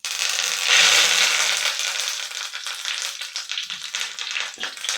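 Mustard seeds and fresh curry leaves fry in hot oil for village-style egg fried rice, a loud hiss that settles into crackling, spitting pops close by, with no speech.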